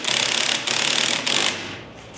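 A ratchet wrench tightens the strut shaft nut on a Foxbody Mustang's caster camber plate, giving three close, loud bursts of rapid clicking, the last trailing off into quiet.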